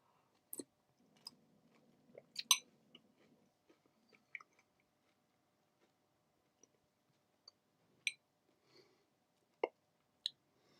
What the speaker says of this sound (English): Eat cereal.